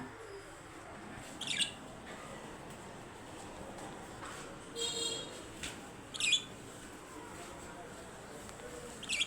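Pet birds, a pair kept in a cage at home, give short chirping calls back and forth, a few brief bursts spaced across a quiet room with faint background noise.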